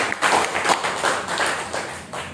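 An audience at a seminar session claps in uneven, short bursts, moderately loud and close, with a faint voice now and then.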